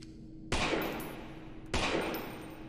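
Two loud, sharp gunshots from the horror video game Lost in Vivo, spaced about a second apart, each followed by a long reverberant decay in an otherwise quiet space.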